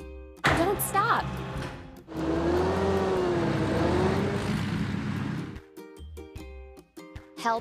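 Cartoonish car engine whirring and revving in a kids' construction video game with JCB and trucks, a steady drone over bright game music with chimes before and after.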